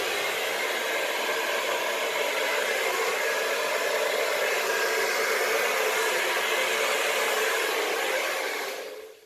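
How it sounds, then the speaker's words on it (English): A hair dryer blows steadily on a low setting over acrylic pour paint, a continuous breathy whoosh that cuts off near the end. "Get my hairdryer out on low."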